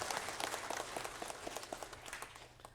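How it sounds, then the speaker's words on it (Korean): A church congregation gives the choir a big round of applause during a worship service: steady, dense clapping from many hands, fairly soft and even throughout, with no talking over it. "다시 한번 찬양대를 향해서 큰 박수로 한번 격려하겠습니다"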